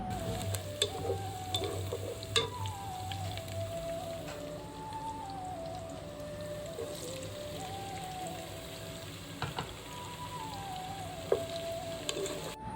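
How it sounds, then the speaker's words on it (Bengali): Small prawns frying in a pan with onion and green chilli give a steady, close crackling sizzle that runs throughout, with a few louder pops and a faint tonal sound in the background. "আমার চিংড়ি মাছটা পেঁয়াজ এবং কাঁচামরিচের সাথে ভালো করে ভাজা হয়ে গেছে"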